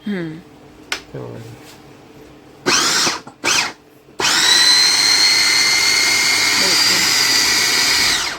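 An electric chopper mixer motor whirs loudly for several seconds while chopping onion pieces, after brief short bursts and a few spoken words at the start.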